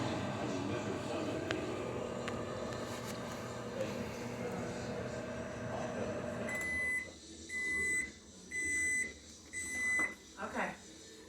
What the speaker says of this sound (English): With the microwave, Mommy.